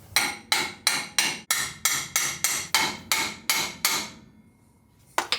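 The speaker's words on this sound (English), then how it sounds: "So I'm gonna hammer this thing in, get it level, tack welded," Steady hammer blows drive an engine into the frame of a 1955 Ford F100 during a V8 swap: about a dozen loud, evenly spaced metallic strikes, a brief pause, then a quick double tap, with no talk.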